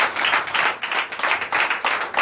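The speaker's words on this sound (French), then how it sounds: "donnez l'acclamation en disant gloire." A church congregation at a Sunday worship service claps in quick rhythmic bursts, the hands beating steadily and fairly close, with no voices rising clearly above the clapping.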